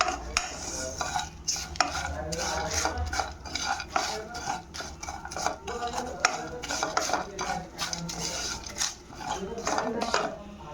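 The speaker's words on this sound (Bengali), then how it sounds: "তেলে নেড়ে নেওয়া আর কি।" Whole spices stirred lightly in a little oil in a pan for a chicken biryani masala paste, a spatula scraping and clinking against the metal in a steady, busy rhythm with a faint sizzle underneath.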